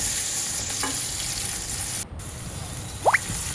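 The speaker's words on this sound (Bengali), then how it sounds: "এখন ওই কড়াইতে তেল দিয়ে পেঁয়াজ রসুন দিয়ে ভেজে নিব।" Onion and garlic fry in oil in a kadhai, producing a steady, close sizzling hiss that runs throughout, with a brief squeaky chirp near the end.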